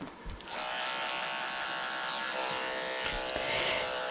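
Electric dog clippers with a 40 surgical blade run in a constant, close, bright buzz while shearing a matted Pekingese, holding steady after a short start with no talking.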